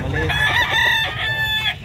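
Chickens at San Carlos City livestock market in Pangasinan, a rooster crowing loudly and close with long drawn harmonic calls over a low murmur of market noise.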